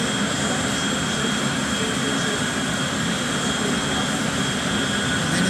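A low-flying airplane in the video game GTA 5 roars past as a continuous, loud, broadband jet engine drone with a steady high whine, filling the whole stretch without pause.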